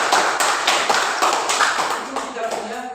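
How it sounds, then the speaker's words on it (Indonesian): A classroom of students claps together for a classmate who arrived at school on time, a dense, steady patter of hands close by that thins out toward the end as a voice begins speaking over it. "Tepuk tangan untuk Tiara."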